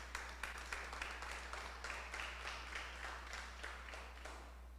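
A church congregation at a Tuesday evening service claps in a steady rhythmic beat, sharp repeated hand claps over a low constant hum, with no voices.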